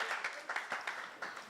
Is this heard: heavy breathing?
no